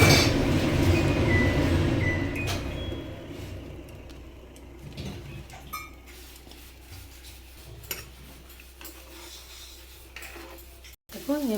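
Lightly fried fish pieces go into a simmering curry in a pan, with a clatter of utensil against metal, stirring scrapes and faint sizzle, loudest early and then fading to scattered clinks.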